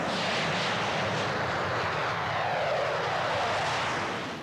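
A military test aircraft flies at Boscombe Down, a loud sustained engine roar filling the whole stretch with a slowly shifting tone as it passes.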